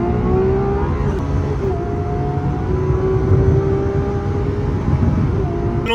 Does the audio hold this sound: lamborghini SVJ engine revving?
yes